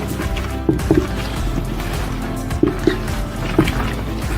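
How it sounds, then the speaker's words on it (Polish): Wet squelching and sloshing as cucumbers are stirred in a ketchup brine, with a few soft knocks against a container, steady and close. "Muszę to wszystko dokładnie wymieszać z tymi ogórkami."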